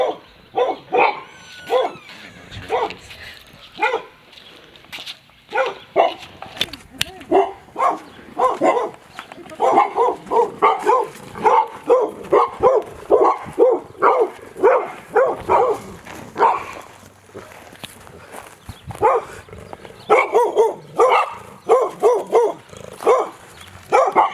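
Dog barking repeatedly behind the back fence of a house, a steady run of sharp barks with a few yips and whimpers, fairly close and loud, with occasional faint voices.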